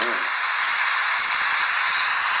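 Loud, steady hiss of an organic beer being opened, a broad rushing spray of gas that fills the whole clip up close.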